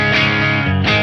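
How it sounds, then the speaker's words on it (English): An electric guitar played through a rig with a Walrus Audio EB-10 preamp/EQ pedal bypassed: a loud, sustained chord with a light crunch, re-struck near the end, no voices. "this is the sound of the guitar with the EB-10 not engaged."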